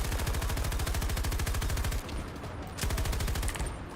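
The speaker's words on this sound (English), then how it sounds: "These machine guns are really accurate in this." Rapid, continuous machine gun fire in Battlefield 2042, loud and close with a steady rattling rhythm, briefly dipping before resuming in sustained bursts.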